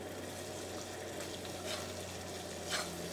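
Shrimp pickle masala with vinegar sizzles and fries in a pan over a medium flame, a steady close crackle with faint scraping from stirring swelling briefly near the end.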